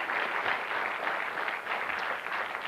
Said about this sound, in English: A round of applause to take her there